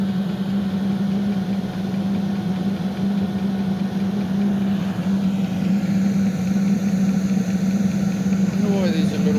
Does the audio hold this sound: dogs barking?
no